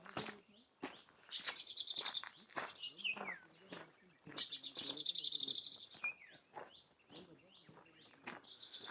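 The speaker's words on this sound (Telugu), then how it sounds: "సో చూడండి అడవుల్లో పక్షుల శబ్దాలు, చాలా డీప్ ఫారెస్ట్" Birds calling in deep forest, repeated chirps and whistled notes in quick sequences, moderately near, mixed with a voice that talks throughout.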